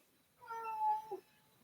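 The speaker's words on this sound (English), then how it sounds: "And the cat is going to chime in." A single drawn-out cat meow, clear and fairly close, rising and ending with a short upward chirp, heard alone in a quiet room.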